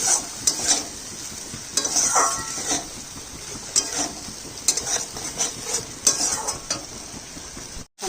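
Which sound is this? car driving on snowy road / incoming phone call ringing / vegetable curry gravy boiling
vegetable curry gravy boiling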